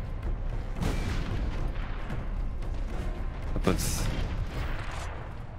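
Explosions and gunfire in Warhammer 40k: Space Marine, a dense, continuous barrage of booms and shots with one sharper blast near the end and a brief spoken word over the din.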